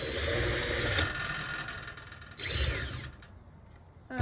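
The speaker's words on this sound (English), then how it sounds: "So I'm just going to go ahead and drill" A power drill whirs loudly and steadily drilling holes in the bottom of a container, slows briefly, then spins up again for another short burst before stopping, with a faint clunk at the end.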